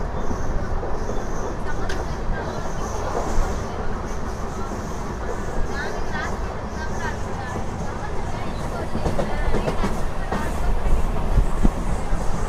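A locomotive-hauled train rolls along with a steady rumbling drone that swells toward the end, while a voice talks over it and scattered clanks and squeaks come through.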